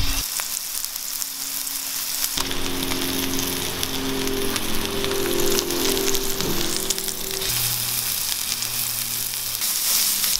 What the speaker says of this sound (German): und das dann direkt in die Pfanne geben